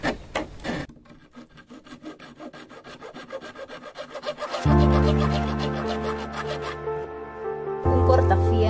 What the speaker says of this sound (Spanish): Un cortafierro, porque hay clavos aquí y quiero sacar solo esto para mi maceta.